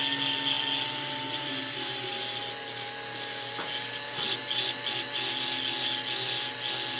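A high-speed dental drill with a burr cutting a crown preparation on a tooth, a loud steady whine with shifting pitched tones and brief changes in load over seven seconds.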